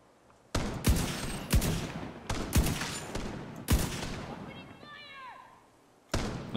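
Gunfire in The Division 2, a series of sharp, loud shots spaced about a second apart, with a voice talking briefly between them.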